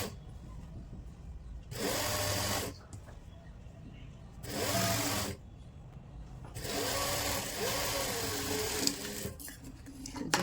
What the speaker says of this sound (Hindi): तो यहाँ से लेके यहाँ तक हम मोहरी के ऊपर सिलाई लगा लेंगे